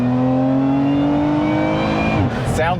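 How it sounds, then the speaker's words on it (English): A supercharged 2024 Lotus Emira accelerates hard in a 0 to 60 run, its engine note loud and close with a steadily rising drone, then a brief dip as it shifts before climbing again. "I just want to do a 0 to 60 test really fast here."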